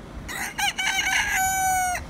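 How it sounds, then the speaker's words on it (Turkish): Rooster crowing at a chicken market in Taşköprü, Kastamonu, a single loud, close cock-a-doodle-doo with broken opening notes and a long held final note, heard alone. "Bakın tavuklarımız buralarda geziyor."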